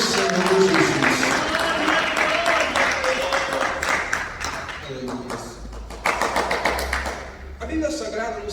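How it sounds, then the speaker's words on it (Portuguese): A church congregation claps in worship, a mass of overlapping handclaps with thumps under a voice that speaks over much of it, and the clapping surges again toward the end. "Senta e adora ao Senhor com palmas que glorificam e exaltam o nome do Senhor Jesus."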